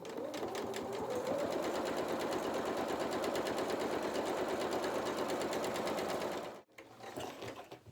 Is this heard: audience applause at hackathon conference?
no